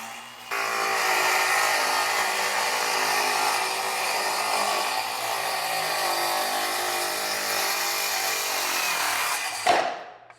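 A power saw rips along a board edge to straighten it for a tabletop. The motor whines close and steady for about nine seconds under load, then winds down abruptly.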